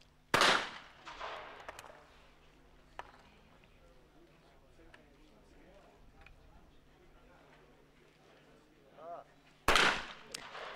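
Shotgun blasts from a men's trap shooting final at the ISSF Shotgun World Cup Final in Maribor, with two loud sharp reports at the start and end and a few fainter shots between, under a commentator's voice.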